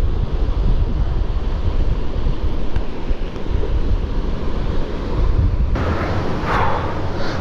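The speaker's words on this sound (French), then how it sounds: "on peut voir qu'il y a un peu de vent." Steady wind buffets the microphone throughout, mixed with a broad rushing roar like surf, loud and continuous with no voices.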